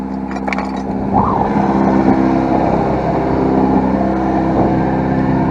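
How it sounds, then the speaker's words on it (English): Car engine idling a little high after the idle was raised to fix stalling, a steady close drone with a slight rise in level after the first second, running alone with no talk. "It is idling a little high"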